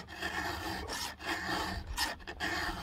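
A hand file is pushed across a chainsaw chain tooth with light pressure, giving close, gritty rasping strokes in a steady back-and-forth rhythm with no talk.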